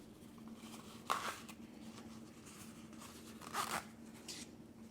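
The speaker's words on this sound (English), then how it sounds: "Now you're going to reach inside and open your zipper." A zipper on a small fabric mini box pouch is pulled open in two short, close rasping zips, separated by a couple of seconds of soft handling noise.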